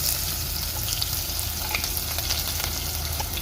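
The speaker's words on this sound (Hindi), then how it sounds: "ऑयल हमारा गर्म हो चुका है और इसके अंदर मैं डालूंगी ये एक दरमियाने साइज़ की मैंने प्याज कट कर ली थी।" Chopped medium-sized onion sizzles and fries in hot oil in a pan, a close, steady crackling hiss with occasional stirring and no voices over it.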